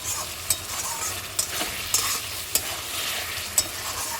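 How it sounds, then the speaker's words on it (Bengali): Spice masala fries in oil with salt while a spoon stirs it, making a constant sizzle with regular scraping knocks about every half second, close and without talk. "এই মশলাটাকে ভালো করে কিন্তু একটু নাড়িয়ে চালিয়ে দেবো"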